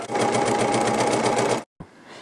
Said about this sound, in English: Place your pieces underneath the foot of your sewing machine with the edge of the foot lined up on the line.